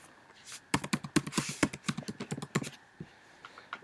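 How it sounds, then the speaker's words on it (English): A computer keyboard is typed on in a quick burst of close, crisp key clicks, irregular in rhythm, as a password is entered, then a last few taps trail off. "you wanna log in and type in your password"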